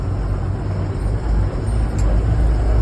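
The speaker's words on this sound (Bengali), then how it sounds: "ছেড়ে দিচ্ছি আমাদের বাস" A bus sets off on its journey, heard as a continuous, loud, low engine rumble and road roar with slight surges and no talking.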